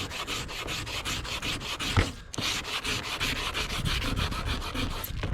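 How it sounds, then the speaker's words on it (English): Rust being rubbed off the chrome hub cap of a Cub Cadet 782 tractor, quick rhythmic scrubbing strokes rasping back and forth close by, with a brief pause midway and no talking. "We're just going to rub it across here and see what goes on, and it starts taking some of the rust off."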